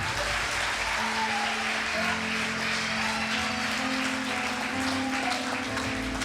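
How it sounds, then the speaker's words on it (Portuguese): Steady crowd applause at a church service fills the space, a dense continuous clatter of clapping with a low sustained tone underneath. "Você pode dar um forte aplauso ao Senhor?"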